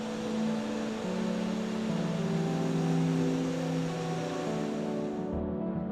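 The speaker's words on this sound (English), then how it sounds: "To move the aircraft, the pushback truck uses a unique towing hook mounted on the nose landing gear." Aircraft pushback truck engine running near an airliner, a continuous low droning rumble with a steady broadband roar, moderately loud and unbroken with no voices.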